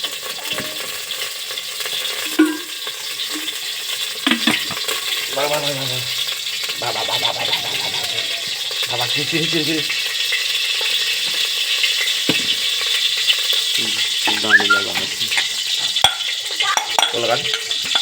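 Chicken hakka noodles stir-fried in oil in a wok, with a continuous bright sizzle and repeated scraping and clanking of a spatula close by, while someone talks intermittently over the cooking.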